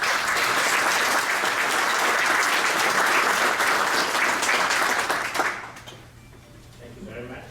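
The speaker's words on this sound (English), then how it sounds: "Please give the speakers and the government attendees a loud applause of appreciation." An audience at a government-industry conference gives sustained, loud applause, dense clapping for about five seconds before it fades quickly to quiet room tone.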